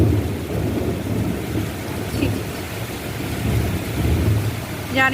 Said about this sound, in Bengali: বিশাল একটা বাজের আওয়াজ